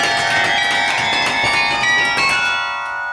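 Carillon bells ring out loud and close in a quick chromatic run, struck notes tumbling one after another with long shimmering overtones that decay into a fading ring at the end.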